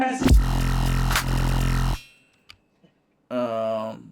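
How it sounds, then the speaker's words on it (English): A loud synthetic zap with a sharp downward sweep, a brief pause with faint clicks, then a second buzzy electronic burst. "I use this little zap thing."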